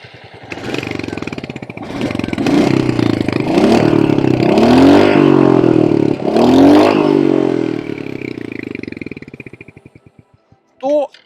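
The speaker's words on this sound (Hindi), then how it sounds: "हंटर का एग्जॉस्ट साउंड कैसा यहाँ पर आता है" Royal Enfield Hunter 350 motorcycle exhaust, a steady close rumble that rises and falls with revs, with someone talking over it and a brief sharp sound near the end.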